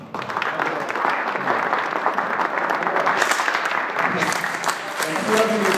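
An audience breaks into sustained applause, a steady wash of clapping lasting several seconds with faint voices underneath.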